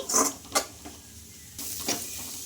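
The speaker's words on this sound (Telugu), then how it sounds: "ఇవన్నీ పచ్చి వాసన పోయే వరకు అయితే ఫ్రై చేసుకోవాలండి" Spices with garam masala stirred and fried in a pan, with a soft steady sizzle broken by a few sharp scraping strokes of the spoon, close by and with no voices.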